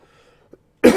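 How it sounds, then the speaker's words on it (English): A single short, sharp human cough from someone recovering from a cold or flu, abrupt and loud at the very end after near silence. "forgive me if I cough and splutter on screen"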